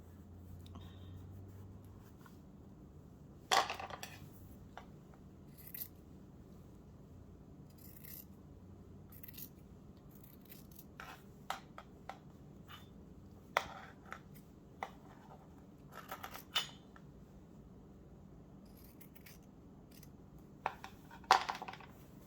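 Scissors snipping through folded paper for a Valentine mason jar craft, scattered close crisp cuts and small clicks at irregular intervals over a quiet room, with occasional soft paper handling.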